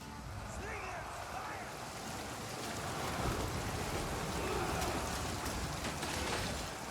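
Rain falling across a battlefield in Total War: Pharaoh, a steady broad hiss that swells slightly midway, with faint distant battle noise mixed in and no clear speech.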